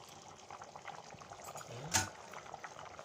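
Chicken curry bubbles softly in a pot, faint gurgling pops broken by one brighter splash or clink near the middle.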